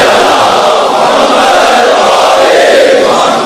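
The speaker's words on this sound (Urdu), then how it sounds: "اب سب مل کر صلوات پڑھیے" A crowd reciting salawat in unison at a religious gathering, a loud, steady roar of many voices chanting together, sustained throughout with no single voice standing out.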